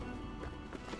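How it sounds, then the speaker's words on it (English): Hooves of goats galloping under their riders in the adventure game Brothers: A Tale of Two Sons, a rapid, close, steady clip-clop beat pounding over a low rumbling bed for about a second. "I wish the whole game was goat riding."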